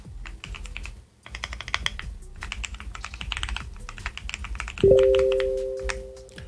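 Rapid keystrokes on a computer keyboard as a password is entered, steady clicking throughout with a short pause near the start, then a brief tonal beep near the end.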